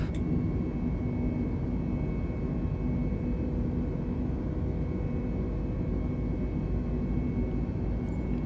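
Steady, loud jet engine roar from an Airbus A320neo during takeoff and climb in Microsoft Flight Simulator, departing Tromsø, a continuous dense rumble with a faint tonal hum held throughout.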